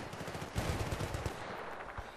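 A modified AK rifle fires in the video game Battlefield Bad Company 2: a quick rapid burst of shots followed by a couple of scattered single cracks, fairly faint overall.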